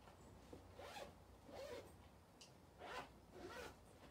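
A zipper on a handmade sewn bag is pulled back and forth in four quick, soft rasping strokes, fairly close and quiet, with no talking.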